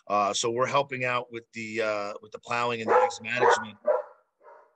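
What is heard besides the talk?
dog barking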